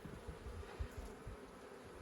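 Honeybees buzz around a queen bee as she is released to the colony, a steady low hum with faint bumps and handling noises close by.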